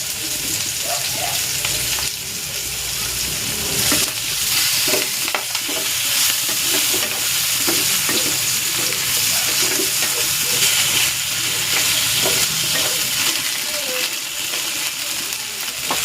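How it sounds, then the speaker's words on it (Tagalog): Pork belly sizzles and fries steadily in a pan with tomato paste, a dense continuous crackle with recurring scrapes of stirring throughout, close and loud with no talking. "Maglalagay na ako ng tomato paste."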